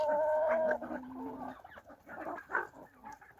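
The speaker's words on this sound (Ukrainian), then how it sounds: "І одна курочка орловська. А це два півники." Chickens cluck and murmur close by, with a drawn-out hen call at the start followed by scattered short clucks.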